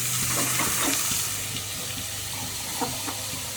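Water is poured into a cooking pot to heat while soya dum biryani is prepared: a continuous, close splashing and gurgling stream with a steady hiss.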